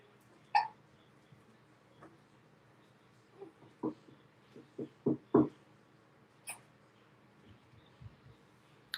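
A child hiccups repeatedly at uneven intervals, several short sharp catches close to the mic in a quiet room, with faint murmuring in the background.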